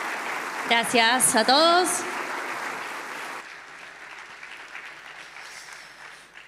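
A conference audience bursts into loud applause that fades after a few seconds, with someone speaking briefly over the clapping.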